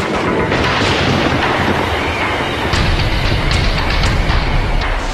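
A thunderstorm rages with a continuous deep rumble and roaring wind buffeting the microphone, loud and unbroken throughout without any talk.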